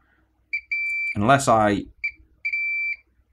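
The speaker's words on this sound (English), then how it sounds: "this cap beeps differently." Multimeter in diode mode beeps while testing a capacitor on a circuit board: a short steady tone, then a pause, then two more beeps, with someone talking briefly between them.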